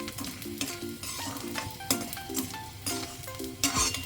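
Edible gum (dink) roasts and puffs in a pan for green moong laddoos, a continuous sizzle broken by repeated scraping stirs and light clinks of a utensil against the pan.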